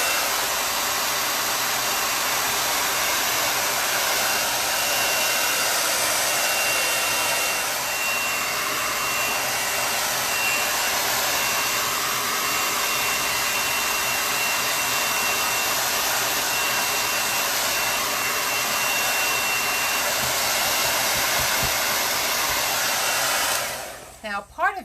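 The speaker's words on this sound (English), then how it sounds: "I'm just going to put the blow dryer on to dry this side" A handheld blow dryer runs steadily and loudly at close range, drying chalk paint on a sign with a constant airy roar that cuts off abruptly at the very end.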